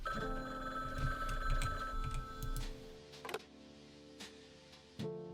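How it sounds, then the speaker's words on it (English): Phone ringing in the video game Frog Detective 1: The Haunted Island: repeated electronic bell rings in bursts over a soft game backdrop, stopping partway, then a couple of faint clicks follow. "There's a phone ringing."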